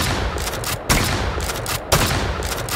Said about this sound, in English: It seems like a pump shotgun.